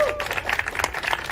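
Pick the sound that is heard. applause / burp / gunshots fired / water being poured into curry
applause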